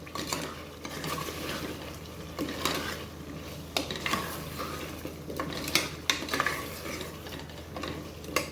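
Colocasia being stirred into mutton kuzhambu in a pot, a spoon scraping and clinking against the metal in an uneven rhythm over a faint simmering sizzle, close and moderately quiet with no talking.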